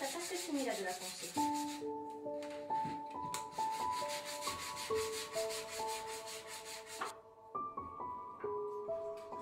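A gourd sanded by hand gives a steady, rhythmic scratchy rubbing that runs throughout, partly masked by a melodic tune playing over it.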